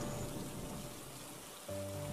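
Steady rain falling in a cartoon scene, a continuous soft hiss of drops that carries on without a break and shifts slightly near the end.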